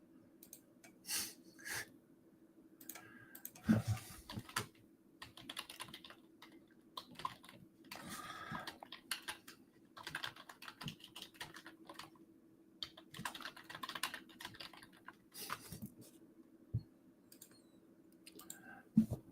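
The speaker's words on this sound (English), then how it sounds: "Sorry, I'm typing." Rapid bursts of clicking keystrokes on a computer keyboard come in irregular runs with short pauses, close and fairly quiet over a low steady hum.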